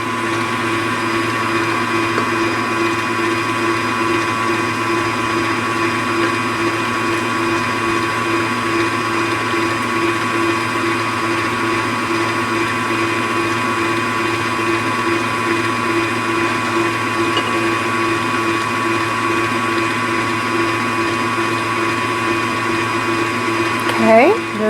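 An electric mixer whirs through crepe batter with a steady, unbroken motor drone held close and loud from start to finish.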